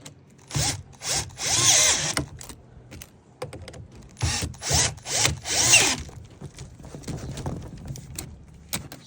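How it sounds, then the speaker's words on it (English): An electric drill drives bolts into patio furniture in two bursts of whirring, each a couple of seconds long, with quiet pauses and small handling clicks between them. "or you can put a piece in an electric drill"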